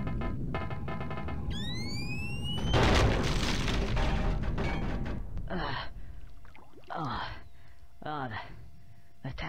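Tank exploding in the video game Conker's Bad Fur Day, a loud burst of blast noise after a rising whine, with voiced gasps and speech around it in the game.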